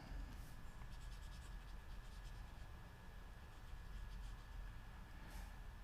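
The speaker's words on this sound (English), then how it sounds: "Now I'm going to erase a bunch of this to get some stuff out of our way." Quiet, scratchy rubbing strokes come from writing being erased off a classroom board, repeating in short passes over a steady low hum and faint background noise.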